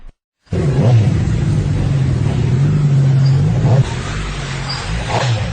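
A big motorcycle engine roars loudly and steadily close by, its pitch rising and falling as it revs.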